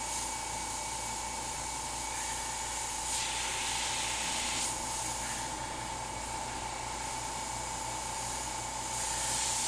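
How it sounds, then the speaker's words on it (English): An aerosol can of spray paint hisses steadily and close up, with a few louder bursts over a constant background drone, while a Warhammer 40k Tyranid Lictor miniature is painted; no one speaks. "And you go to spray and it doesn't do what you want"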